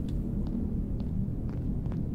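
In the video game Heat Death: Survival Train, a storm gives off a low, steady rumble with a few faint knocks and taps on top.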